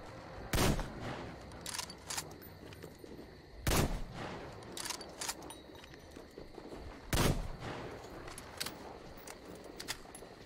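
Gunfire in the video game Metro Exodus, three loud sharp shots spaced a few seconds apart with smaller clicks and rattles between them, no speech.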